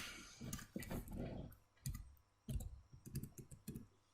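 Key clicks from a computer keyboard while someone types a search term, coming in short irregular bursts of taps with brief pauses between them, close and fairly quiet with no talking.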